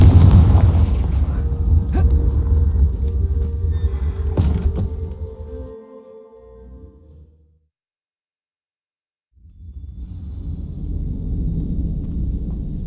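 Spell blasts cast in combat in the video game Hogwarts Legacy, heavy booming explosions with sharp bursts over rumbling noise, fading to silence midway before loud dense rumble returns.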